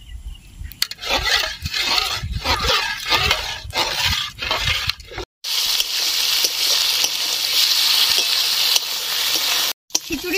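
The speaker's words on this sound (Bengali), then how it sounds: "এবার খিচুড়ির মধ্যে আমি কিছুটা ঘি দিয়ে দিব। এবার ভালো করে নেড়ে নিব।" Khichuri with ghee is stirred in a frying pan: a run of rhythmic scraping strokes comes first, then a steady, loud sizzle fills the rest.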